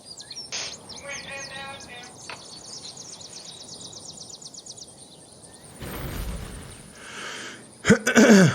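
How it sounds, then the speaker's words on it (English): Birds chirp in a quiet outdoor setting, with short tweets and a brief trilled call early on, followed by faint calls, rustling noise and a louder burst of sound near the end. "hear the birds chirping"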